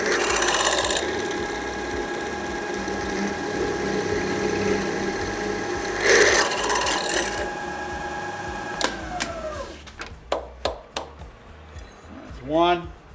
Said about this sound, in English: I'm going to go ahead and just drill these things through.